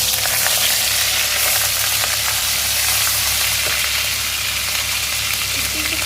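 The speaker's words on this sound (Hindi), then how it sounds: "अब जब ये ब्राउन हो जाएगा तो हम इसके अंदर अदरक लहसुन का पेस्ट डालेंगे।" Ginger-garlic paste hitting golden-browned onions in a pan for mutton kofta, giving a loud, close, unbroken hiss and sizzle that carries on steadily throughout.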